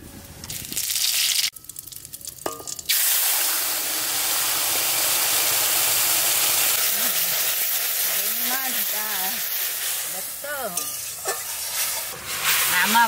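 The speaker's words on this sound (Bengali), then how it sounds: "এবার ফোড়ন দেবো, সর্ষের তেল দিয়ে দিচ্ছি" Spices tempering in hot mustard oil, a loud steady sizzle and hiss bursting in after a few clattering knocks and carrying on close up, with voices talking over it in the later part.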